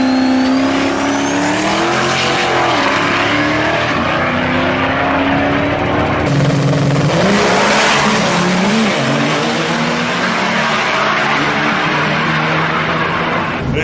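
A truck driven hard in a competition round roars loudly and close, its engine pitch climbing and dipping through several revving surges, with a harsh, gritty edge and no talking.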